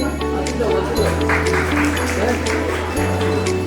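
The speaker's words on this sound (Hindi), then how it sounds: "ये उर्वशी, राधा, तालियां बजती रही।" An audience at a women's college sports event claps under loud talk amplified through speakers, with steady low music tones running throughout.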